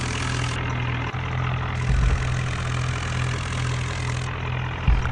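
A steady, low engine of a Swaraj 963 tractor pulling a trailer uphill in a video game idles and drones continuously, with a faint rumble and a couple of brief thumps along the way.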